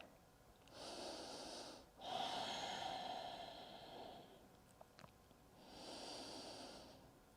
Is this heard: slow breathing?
yes